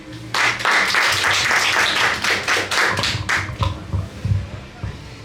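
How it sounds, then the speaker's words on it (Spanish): Loud audience applause at a tribute event in Rímac fills the room with dense clapping that swells, then thins into scattered claps as a voice murmurs near the end. "Un fuerte aplauso"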